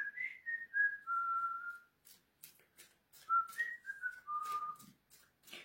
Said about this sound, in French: Ouais, je sais bien siffler.